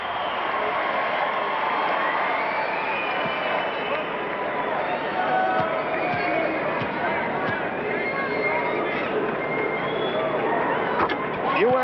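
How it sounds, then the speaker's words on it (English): Steady, dense roar from a basketball arena crowd chanting USA during the 1992 USA versus Croatia game, a continuous muffled wash of voices on an old broadcast, with a commentator talking over it. "the crowd is chanting"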